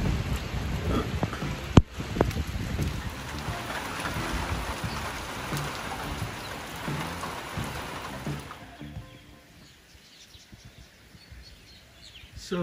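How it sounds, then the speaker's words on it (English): Heavy tropical rain pours down on open land in rural Thailand, a steady broadband hiss of drops on surfaces near the microphone that eases into a quieter patter toward the end. "downpour."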